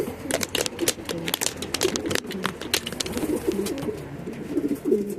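Pigeons coo repeatedly in low, throaty rolling calls, close by, over a busy background of scratching, tapping and fluttering.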